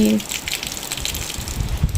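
A rainwater flood surges under a bridge with a continuous rushing gush, moderately loud and close, with rain and a short burst of talking at the outset.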